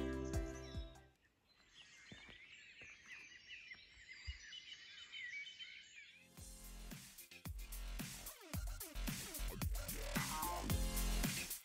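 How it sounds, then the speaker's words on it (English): Birds sing in a quiet early morning near Thor's Cave, faint chirps and calls over a hushed outdoor stillness, with a louder, fuller stretch of sound in the second half. "All you can hear is the birds."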